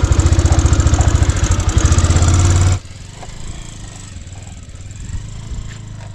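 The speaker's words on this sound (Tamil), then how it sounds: "நம்மளோட கேஸ் வண்டி பார்த்தீங்கன்னா சூப்பராக ரன் ஆகிட்டுருச்சு" A petrol motorbike engine converted to run on gas revs loudly and steadily, then drops abruptly to a quieter, uneven idle with faint background noise.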